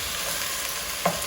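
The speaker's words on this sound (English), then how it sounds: "you'll put it in a little bit of oil on high heat and just let it cook" Chopped cactus (nopales) frying in a little oil over high heat, a steady close sizzle with one faint clink near the end and no voices.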